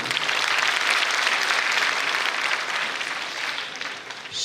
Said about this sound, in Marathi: या सर्व शिक्षकांसाठी तुम्ही सगळ्यांनी एक वेळ जोरदार टाळ्या वाजवाव्या.